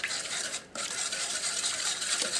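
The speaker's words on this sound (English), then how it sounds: "we're gonna give them some black pepper, olive oil, and we're gonna whisk it really good" Black pepper and olive oil being whisked hard in a bowl, a steady close-up rapid whirring and scraping that runs continuously, broken by one brief pause before resuming at full pace.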